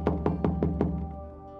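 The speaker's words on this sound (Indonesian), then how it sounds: "Suara ketukan seseorang dari luar rumahku." Five quick, evenly spaced knocks on a house door from outside, close and crisp, followed by a short fading tail with no voices.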